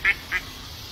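Two short, loud duck quacks close together near the start, followed by a quiet background with no talk.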